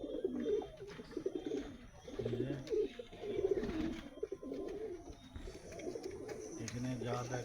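Pigeons coo in a small, crowded loft of male birds, with soft overlapping throaty coos rising and falling near and continuous, joined by a few faint chirps and rustles.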